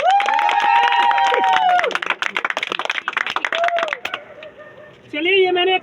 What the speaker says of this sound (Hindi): तो चलिए जल्दी जोरदार से ताली बजाएंगे।